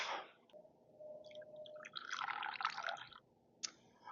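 Freshly brewed coffee, a Papayo Honey process lot, drips faintly into a cup during a pour-over brew, with soft, quiet trickles and a few scattered splashes.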